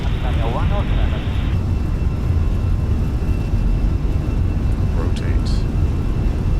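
Airliner jet engines roar in Microsoft Flight Simulator during an Alitalia takeoff roll from Zurich: a loud, steady, broadband rumble fills the whole stretch, with a brief radio-like voice near the start.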